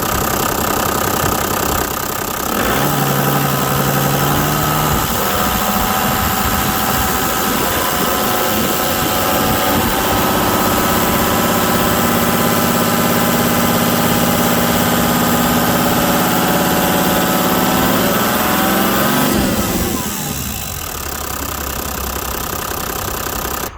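A diesel engine with cavitation at the fuel pump feed, fitted with an old fuel filter, idles roughly, then climbs to a steady, loud raised rev for a long stretch before dropping back to idle.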